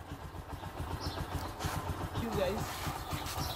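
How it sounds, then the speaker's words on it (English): A Bajaj Boxer X150 motorcycle engine idles with a low, steady putter that has a clutch fault and loss of power, the engine heard close but fairly faint beneath someone talking. "So at the moment, the motorcycle is just idling."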